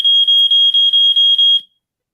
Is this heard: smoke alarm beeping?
yes